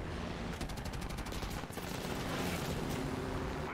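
Video game gunfire in a dense, continuous stream of rapid automatic bursts over a loud, noisy battle mix.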